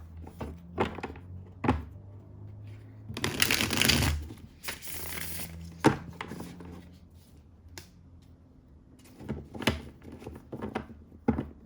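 Tarot cards are shuffled and handled close up, with a longer riffling burst in the middle and scattered taps, slaps and card flicks around it, fairly quiet overall.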